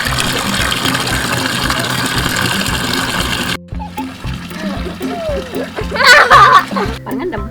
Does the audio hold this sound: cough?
no